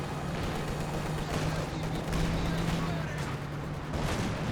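Katyusha rocket barrage in Company of Heroes 2, a continuous rumbling roar of distant explosions and battle noise that carries steadily throughout, dense and unbroken.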